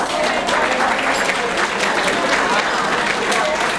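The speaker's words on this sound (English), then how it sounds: "applaud yourselves because you're here" Dense, loud audience applause at a women's club fashion show, a continuous wash of many hands clapping close by without pause, with faint voices mixed in.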